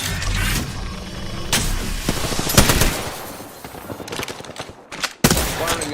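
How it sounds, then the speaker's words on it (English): Dense video-game gunfire from a smart bullet weapon, with rapid bursts of loud, sharp shots stacked over one another and several heavier booms standing out amid the continuous clatter. "Firing a smart bullet."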